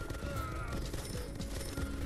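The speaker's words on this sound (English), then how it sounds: "Oh, those are anti-air turrets." Rapid anti-air turret gunfire from the video game Mastermind World Conqueror, a dense steady stream of shots with crashing bursts throughout, loud and continuous.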